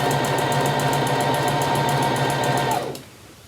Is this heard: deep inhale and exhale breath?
no